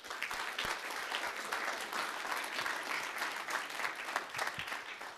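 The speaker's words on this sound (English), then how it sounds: "Let's make a big applause for this very brave panelist as well." Audience applause at a business development funding seminar, a dense, steady wash of many hands clapping for a panelist, filling the whole stretch without talk.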